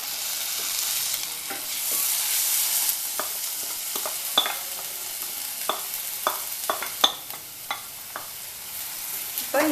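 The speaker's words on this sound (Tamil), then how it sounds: "ஒரு தக்காளியை வந்து அரைச்சி வச்சுருக்கேன், அதை ஆட் பண்ணிக்கிறேன்" Tomato puree sizzles and fries in a pan for mushroom masala, a steady hiss broken by repeated sharp spoon scrapes and clicks as it is stirred, close and fairly loud with no talk.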